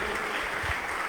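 A church congregation claps together at a Sunday service in a dense, continuous wash of applause that fills the room.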